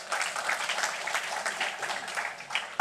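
A crowd at a Trinidad and Tobago PNM political rally breaks into applause, a steady wash of clapping with slight swells, moderately loud and unbroken for a few seconds.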